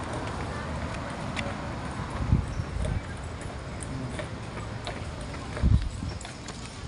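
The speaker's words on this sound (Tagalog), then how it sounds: "Yung kabayo, ang laki." A large horse's hooves clip-clop along a street in Charleston, South Carolina. The steady hoofbeats are soft and somewhat distant beneath outdoor ambience, and people talk nearby.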